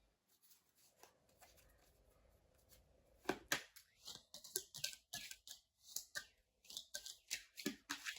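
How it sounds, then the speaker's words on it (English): Crisp riffling bursts of playing cards being shuffled, several quick rounds of papery fluttering and taps, close up with no talking. "Let's get these shuffled really good."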